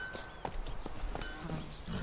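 Horse hooves clip-clop in The Witcher 3, a few uneven footfalls over continuous in-game ambience, with no talking.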